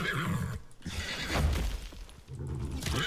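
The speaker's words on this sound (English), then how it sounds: "A horse." Horse in the video game Icarus giving a loud, rough whinny with shaky breaths and snorts, close and alone, breaking briefly before a final huff.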